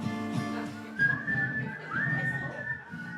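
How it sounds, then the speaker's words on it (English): Several people whistle a tune together, a wavering melody carried alone without talk, steady and fairly close throughout. "Now we can all whistle."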